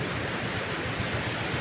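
Sea waves on a beach, a steady close wash of surf noise with soft wind rumble, no voices.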